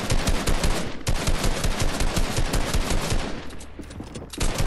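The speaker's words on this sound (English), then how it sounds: "I'm trying to shoot this wall" Video game gunfire sprayed at a wall: loud, close automatic fire in rapid, steady bursts that continue almost without break, with one short lull before the shooting resumes.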